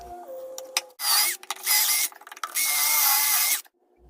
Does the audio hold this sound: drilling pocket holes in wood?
yes